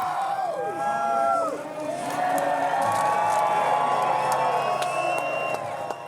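A packed crowd at an ARCA Menards Series race at Berlin Raceway in Marne, Michigan roars and whoops for the winner, a loud sustained wall of cheering with scattered shouts and no talk.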